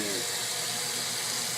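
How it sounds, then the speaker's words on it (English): A kitchen or bathroom faucet runs water steadily into a sink, a continuous hiss and splash close by. "Let's turn the faucet on, Muncie."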